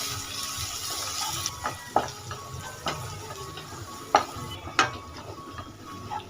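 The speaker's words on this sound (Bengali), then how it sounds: "সব কিছু খুব ভালোভাবে মিশিয়ে নেব" Spices and chili and coriander powder are stirred into a lentil tadka mixture in a pan, with a soft ongoing sizzle under repeated scraping and sharp clinks of a spoon against the metal pan.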